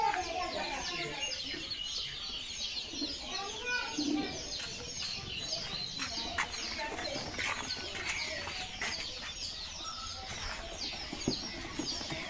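Local chicken chicks from a poultry hatchery peeping as they are loaded for delivery, a busy chorus of high chirps with clucks and cooing mixed in and a voice talking underneath.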